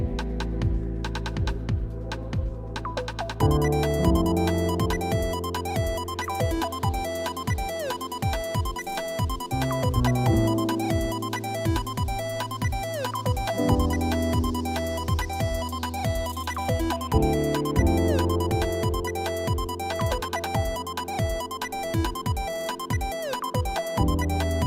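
A sustained synth note with slight pitch bends plays over a pulsing electronic loop with a deep throbbing low end.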